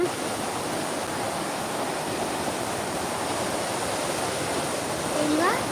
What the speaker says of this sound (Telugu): వాటర్ ఫ్లో చూస్తున్నారా